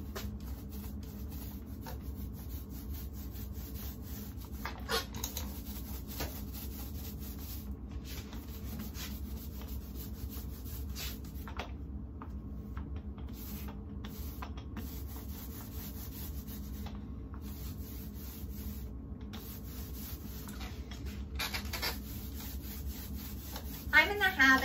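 A paintbrush applies primer to a wooden surface, scrubbing into nooks and crannies, a soft continuous scratchy sound with brief pauses, close and fairly quiet.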